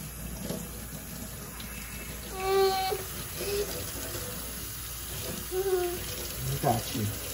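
Tap water runs steadily into a sink or tub while a toddler's hair is washed after a first haircut, splashing and gurgling close by, with an adult voice talking gently over the flow.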